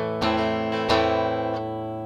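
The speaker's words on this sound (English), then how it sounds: "If you bypass the signal, it sounds like this. That's the guitar signal." A dry electric guitar signal bypassing an amp-modelling app sounds a sustained chord with a few light picked re-attacks. The tone is clean and steady, with nothing else heard.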